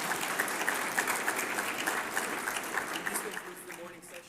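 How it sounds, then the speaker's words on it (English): Audience applause after a keynote talk at the 3DV 2024 conference, a full lecture hall clapping steadily and fairly loudly, with a few scattered voices surfacing as the applause thins out near the end. "let's do another round of applause for Andrea for the great talk."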